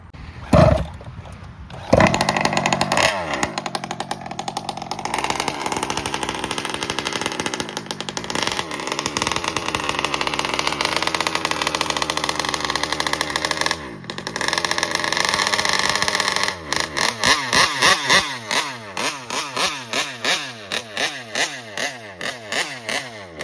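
The engine of a rebuilt 1971 Oldsmobile Supreme cranks and catches, then runs loud and close with a steady rumble before being revved in a series of sharp rhythmic bursts toward the end.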